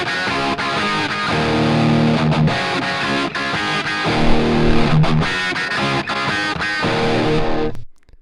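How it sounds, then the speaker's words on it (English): Distorted guitar is played through an amp with a slight echo switched on and off, giving steady chugging chords and riffs with a faint repeating trail behind the notes. "he's turning the echo on and off, and it's so slight."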